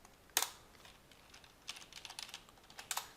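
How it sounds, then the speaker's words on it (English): Password typed on a computer keyboard: a sharp burst of keystrokes at the start, a quieter run of taps in the middle and a final pair of clicks, close and clear with no talk. "I type my password"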